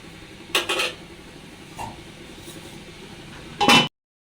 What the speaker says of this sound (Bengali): এখন আমি ডাকনাটা দিয়ে দিব